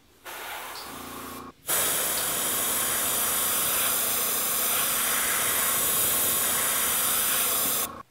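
An airbrush sprays Pro-Line R/C body paint in a steady, even hiss, a short burst followed by a long continuous spray of about six seconds.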